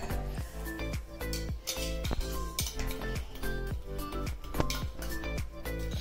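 A spoon clinks and scrapes rhythmically against a bowl while oil and curd are stirred together for a semolina rava cake, a steady run of bright close taps repeating about twice a second, with no voices.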